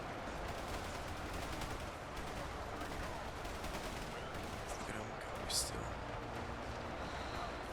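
Constant gunfire rattles through a large battle in Ultimate Epic Battle Simulator II, a dense, unbroken wash of distant shots and volleys with a brief sharper burst near the end.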